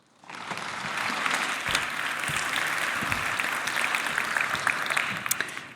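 An audience at a neuroscience lecture claps to welcome Professor Katharina Domschke to the podium. Steady applause from a large crowd starts abruptly, holds at an even level for several seconds and then tapers off. No one speaks over it.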